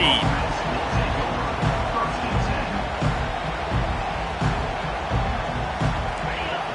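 A virtual stadium crowd in NCAA 25 college football roars and cheers continuously, a broad, dense wall of noise with occasional surges, while an announcer's commentary is heard over it.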